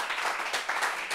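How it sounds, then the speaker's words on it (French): Brief burst of studio audience applause on a French-language talk show: about a second of dense, steady clapping at moderate volume, heard alone. "applaudissez pour Mimi, s'il vous plaît."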